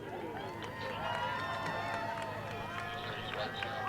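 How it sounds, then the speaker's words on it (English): Crowd applause and cheering for senior cheerleaders on senior night at a high school football game, a steady dense wash of clapping and voices with whistling tones throughout, moderately loud and continuous. "Let's have one more round of applause for your senior cheerleaders."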